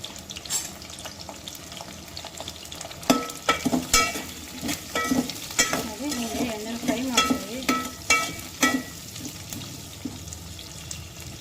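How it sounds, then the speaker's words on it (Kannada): Onions fry in oil in a pan for paneer gravy, giving a steady sizzle broken by repeated clanks and scrapes from stirring, with a few louder knocks throughout. "ಈರುಳ್ಳಿನ ಚೆನ್ನಾಗಿ ಎಣ್ಣೆಲಿ ರೋಸ್ಟ್ ಮಾಡ್ಕೋಬೇಕು ಒಂದು ಐದು ಈರುಳ್ಳಿ ಇದನ್ನು ಎಣ್ಣೆಲಿ ಫ್ರೈ ಮಾಡ್ಕೊಬೇಕು"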